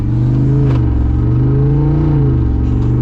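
A Jeep Wrangler engine, either the 392 or a Hellcat-swapped build, rumbles loud and close in a deep, steady idle with slight swells in pitch and no speech over it.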